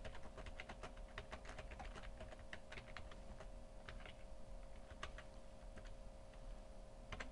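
Steady keystrokes on a computer keyboard while entering screenplay text in Final Draft, a quiet, continuous run of close clicks with no voices.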